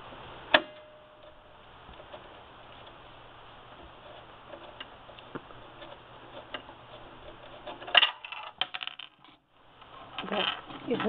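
A small screw from a Brother LX3014 sewing machine drops with a single sharp metallic tick over quiet room tone, followed later by a few faint clicks and handling sounds.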